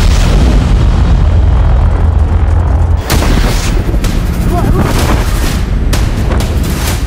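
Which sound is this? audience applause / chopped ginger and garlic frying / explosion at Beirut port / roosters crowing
explosion at Beirut port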